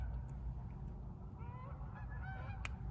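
Geese honking outdoors, a series of nasal honks clustered toward the second half, moderately faint over a low rumbling background, no talk.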